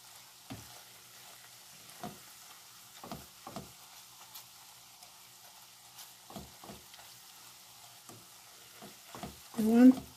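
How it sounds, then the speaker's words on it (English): Carrot simmering in oil gives a quiet, low frying hiss punctuated by repeated stirring scrapes and knocks of a utensil in the pan, with a louder clatter near the end. "I want to cook it good so that the carrot will infuse inside the oil properly"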